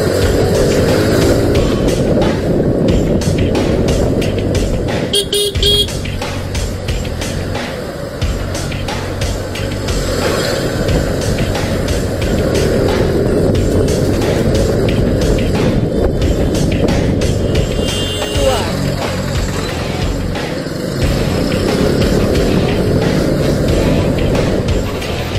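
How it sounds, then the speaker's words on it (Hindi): Motorcycle riding fast on a road through light traffic, a steady loud engine and wind roar running continuously with no speech. "तो चलिए बाइक भगाते हैं यहाँ से"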